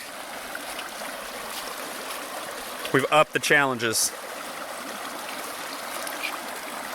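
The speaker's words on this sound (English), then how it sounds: "now it's creek crossings in the dark" Flowing creek water at a nighttime creek crossing on the Pinhoti Trail, a steady rushing hiss throughout, with a brief burst of talk from hikers in the middle.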